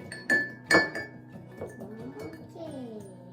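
Glass clinks and taps ring out as a utensil stirs in a glass bowl while chocolate lava cake batter is mixed, with two sharp knocks early, then softer scraping clinks, heard up close.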